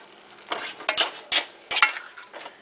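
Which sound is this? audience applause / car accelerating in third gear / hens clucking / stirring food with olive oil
stirring food with olive oil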